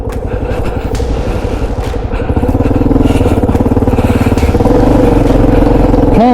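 A KLR650 motorcycle engine labours in loose sand with a close, loud, rhythmic thumping that rises in revs and then cuts out abruptly at the end as the engine stalls.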